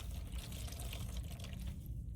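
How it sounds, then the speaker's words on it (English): Clean water runs and splashes in a basin as a washcloth is rinsed for nurse aide perineal care, a soft, continuous trickle that stays fairly quiet. "Now we're going to take our clean water and rinse."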